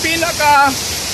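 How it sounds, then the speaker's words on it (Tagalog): Steady roar of the tall Seven Falls waterfall at Lake Sebu, a constant rushing wash heard under a person talking. "pinakataas na waterfalls dito po sa Lake Cebu"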